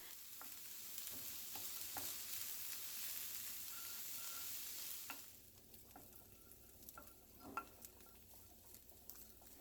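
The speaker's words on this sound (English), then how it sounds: "I'm just going to saute them until they're golden brown" Onions sauté in a pan, a soft continuous sizzle that drops quieter halfway through, with occasional light stirring clicks, close and fairly faint.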